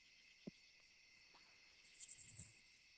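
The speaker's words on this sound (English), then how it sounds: "that background noise you got with them crickets sound dope" Steady high-pitched cricket chirping fills the background throughout, with a brief knock early on and a soft low rumble near the end.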